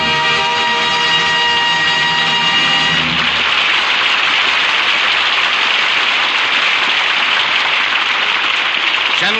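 A studio audience in Hollywood breaks into sustained, even applause for a 1945 radio play, the clapping rising out of a brief musical tone and continuing steadily to the end.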